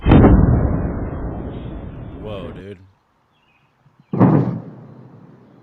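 A loud, sudden broadband blast followed by a short rumbling decay, then silence and a second booming burst, with a voice reacting between them.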